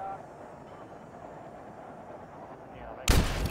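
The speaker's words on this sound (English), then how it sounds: "I'm gonna watch this explode." In the video game Hitman 2, a quiet stretch of low game ambience breaks suddenly into a loud, booming explosion near the end that rumbles on briefly.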